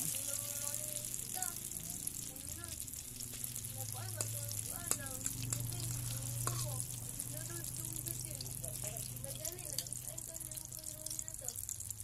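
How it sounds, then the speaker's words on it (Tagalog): Eggplant omelette (tortang talong) frying in hot oil gives a steady, close, crackling sizzle that runs the whole time, with faint voices underneath. "mantika pag mainit na masyado, ilagay na yung torta na talong"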